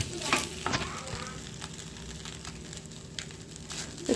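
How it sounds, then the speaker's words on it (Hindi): Rice frying in a pan with onion and tomato gives a steady, close sizzle, broken by a few brief stirring scrapes. "तो मैं यहाँ पे जो चावल है उसको फ्राई कर रही हूँ।"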